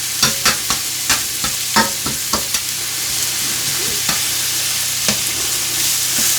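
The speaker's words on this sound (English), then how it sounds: "you just get your mince in the hot pan and break it up" Beef mince sizzling in a hot pan while it is broken up, a loud continuous fry with a rapid run of sharp spatula knocks early on, then fewer strikes over the steady sizzle.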